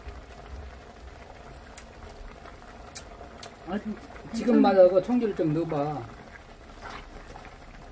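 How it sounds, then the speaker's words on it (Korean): Tteokbokki sauce laced with a splash of cheongju rice wine simmers in a pot at home, giving a soft, steady bubbling hiss under a man's and a woman's conversation. "보글보글보글 끓는 소리가 예술입니다"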